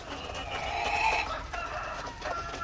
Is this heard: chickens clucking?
yes